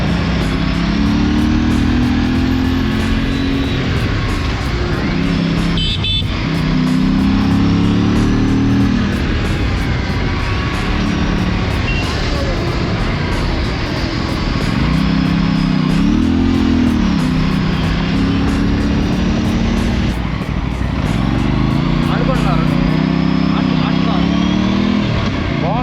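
An Aprilia RS 457 sports motorcycle engine drones and revs loudly while riding, rising and falling through the gears over constant wind rush. A voice talks over it at times.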